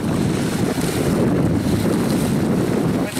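Steady wind roars on a Danube riverbank during feeder fishing, a loud continuous rush with microphone buffeting and no speech throughout.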